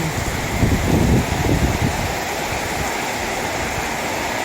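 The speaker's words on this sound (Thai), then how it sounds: "ตกหนักครับตกหนักตกหนักจริง ๆตกหนักครับทั้งฝนทั้งลม" Heavy rain roars steadily with gusting wind, a dense hiss that swells slightly near the start before evening out.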